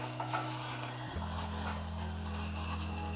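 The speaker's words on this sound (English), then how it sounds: "Please don't mind the beeping. It is my watch going off" Electronic watch alarm beeping in repeated pairs of short high-pitched beeps, three double-beep bursts over a steady low hum.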